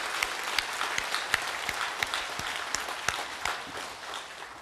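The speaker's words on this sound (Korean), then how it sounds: "우리 하나님께 영광의 박수, 감사의 박수 한번 올려드리겠습니다" A church congregation claps together in steady, sustained applause, sharp individual claps standing out against the dense clapping, fading slightly at the end.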